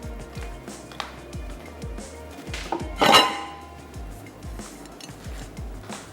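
A large mixing bowl is handled in a home kitchen, giving a series of dull knocks and taps, with one brighter metallic clatter partway through.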